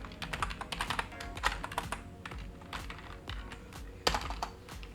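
Python code is typed on a computer keyboard in a quiet room, with rapid irregular clicking keystrokes and a few louder key strikes near the end, no talking.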